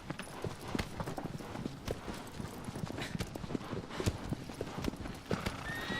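Horse galloping across open ground in Shadow of the Colossus, with rapid, rhythmic hoofbeats that carry steadily at close range and a brief whinny along the way.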